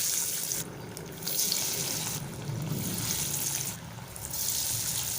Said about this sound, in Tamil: ஆயில் நல்லா ஹீட் ஆகிடுச்சு. இப்போ நம்ம வடையை தட்டி போட்டுக்கலாம்.